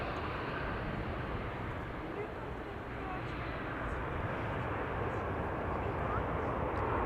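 A heavy airliner takes off from runway 09 at Schiphol Airport, a steady broadband engine roar holding loud and constant throughout, with no clear rise or fade.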